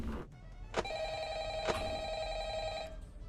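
Telephone ringing in Five Nights at Frickbear's 3: two clear, loud electronic rings in a row, each a bright, steady buzzing tone lasting about a second.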